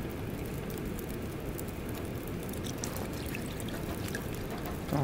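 Water pouring steadily while rose hip tea is prepared in the survival game The Long Dark, a continuous splashing trickle that runs on its own for the full stretch with no talk over it.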